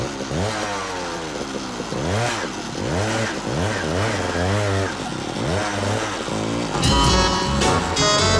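A motorcycle rides up with repeated rising and falling engine revs, a close, buzzing mid-pitched drone that surges several times before settling as it comes to a stop.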